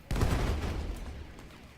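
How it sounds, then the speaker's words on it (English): A loud explosion in a video game, a sudden heavy boom with a rumbling, crackling tail that slowly fades over about a second and a half, heard alone with no talk. "that caused a lot bigger of an explosion than I thought"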